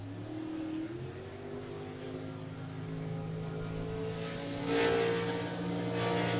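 An unlimited hydroplane race boat engine idles down heading into the first turn during Gold Cup practice, a steady low droning hum with a slight swell toward the end, heard at a moderate distance.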